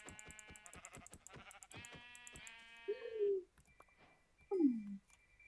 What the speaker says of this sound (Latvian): O, aita.